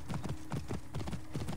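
Horse hooves galloping at a steady quick clip-clop rhythm in Assassin's Creed Origins, a pharaoh's horse ridden through a forest, close and continuous with no talk over it.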